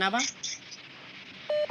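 Telephone dialing tones on a mobile phone: brief voice sounds at the start, then two short, steady electronic beeps near the end.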